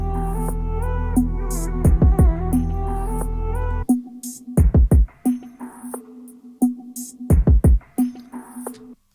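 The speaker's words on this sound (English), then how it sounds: "Right now the kick sounds like this with my settings here." A kick drum in a mix processed with an analog channel plugin thumps in short repeating patterns alongside other drums and a sustained tone, played loud with no voice over it.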